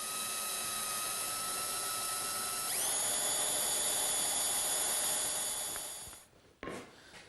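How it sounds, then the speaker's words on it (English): Drill fitted with a brad point bit and depth stop collar boring pin holes into wooden legs in a home woodshop, a steady high whine that rises in pitch as the bit spins up, then a brief bite and stop, close and moderately loud. "I'm using a brad point bit to drill it"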